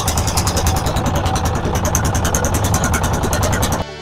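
A trawler's engine running on a wide river in southern Bangladesh, a loud steady close drone with fast regular knocking throughout, cutting off abruptly near the end.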